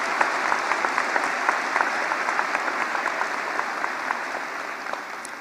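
An audience at a university physiology department awards ceremony claps steadily, a dense, sustained round of applause with individual sharp claps standing out, fading slightly toward the end.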